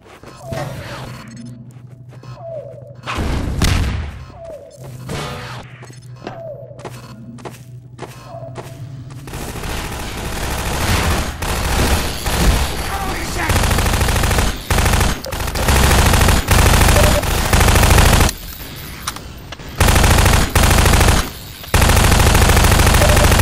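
Automatic gun turrets in Half-Life 2 Episode Two open fire in rapid bursts, at first sparse thuds and short volleys, then a sustained, loud barrage of overlapping gunfire and impacts that fills the second half.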